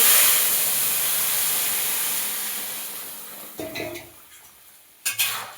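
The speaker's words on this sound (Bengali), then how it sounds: "এবার তরকারিটাকে ঢেলে দেবো।" Eggplant and Malabar spinach stems for a village-style rohu fish curry hit oil tempered with dried red chillies and five-spice seeds, giving a loud sizzle that slowly fades, then a few close scraping, clattering stirs in the pan.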